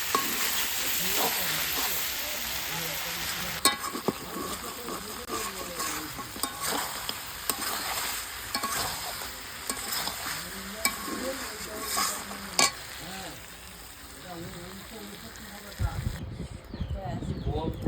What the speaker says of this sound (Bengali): এই যে মাংসটা আমি একটু কষিয়ে নয়, জাস্ট একটু ভেজে নিচ্ছি তেলে